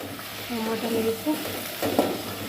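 Tomatoes frying for curry are stirred in a pan, a soft sizzle under intermittent scraping strokes, close and fairly quiet, with a brief louder scrape near the end.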